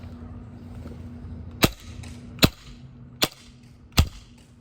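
A MAC-11 airsoft gun fires BBs in semi-auto: four sharp, close cracks about a second apart, each short and snappy, over a low steady background hum.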